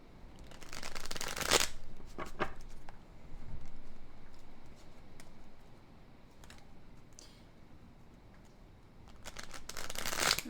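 Tarot cards shuffled in bursts, a loud riffling crackle near the start, a couple of lighter flicks after it, quiet handling through the middle, then another brisk shuffle at the end.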